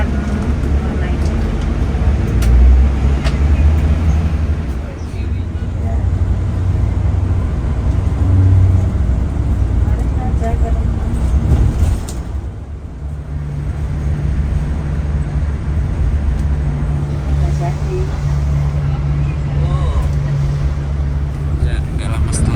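A Cahaya Trans Scania coach bus on a morning trip from Cibinong to Jogja gives a steady low engine and road rumble from inside the cabin, with people talking over it.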